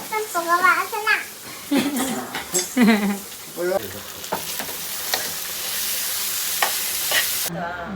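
Potatoes for an aloo fry curry sizzling in a pan while being stirred, with a steady frying hiss and scraping stirs, heard under a child's chatter that fades out partway through.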